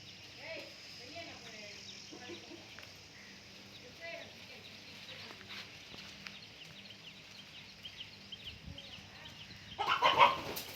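Chickens cluck softly in a farmyard at a moderate distance, with a louder burst of noise near the end.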